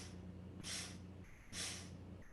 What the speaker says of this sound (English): Inhale, 4 sniffs.